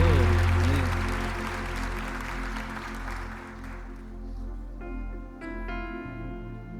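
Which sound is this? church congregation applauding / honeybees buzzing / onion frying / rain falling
church congregation applauding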